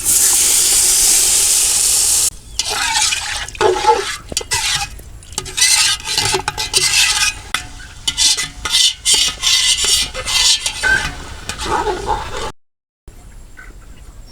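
Loud hissing burst as water hits a hot pan of fried rice for pulao, followed by bubbling and repeated stirring and scraping, ending abruptly.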